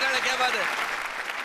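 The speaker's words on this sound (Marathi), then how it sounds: "जोरदार टाळ्या" Studio audience applause at a Marathi TV comedy show, dense steady clapping with voices and cheers mixed in throughout.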